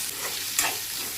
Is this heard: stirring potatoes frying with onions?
yes